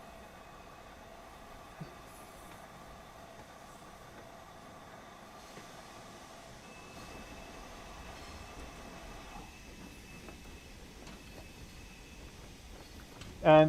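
A steam train runs in the Train Sim World video game: a steady, moderate rumble with faint tonal hum that thickens midway and ends in a brief louder burst.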